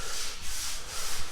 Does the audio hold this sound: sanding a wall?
yes